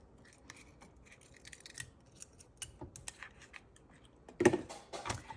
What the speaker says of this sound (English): This is my cute little travel hole punch.